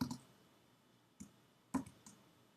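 A few separate key clicks on a computer keyboard while entering code, three or four light taps spaced out over a quiet background with no speech.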